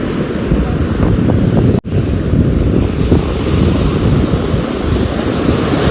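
Ocean waves and wind on Kovalam beach, a loud continuous roar of surf with heavy wind buffeting the microphone, steady throughout with one brief dropout.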